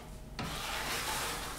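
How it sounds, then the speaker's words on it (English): Drywall joint compound spread and scraped across a wood surface, a steady rasping rub that starts abruptly and continues close and fairly loud without pause. "I'm going to apply some joint compound."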